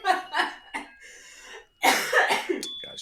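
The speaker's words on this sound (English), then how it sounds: "Gosh, coughing." Several harsh coughs in quick succession from one person, close and loud, with short gaps between the bursts and a brief high tone near the end.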